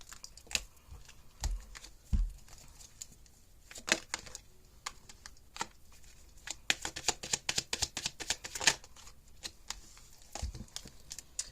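A deck of tarot cards is shuffled up close, giving quiet, irregular riffles and sharp clicks and taps that cluster densely toward the end, with no talking.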